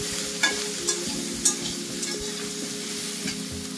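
Soybean chunks and potato pieces fry in hot oil in a kadai, with a steady close sizzle and occasional spatula scrapes and stirs. No one talks.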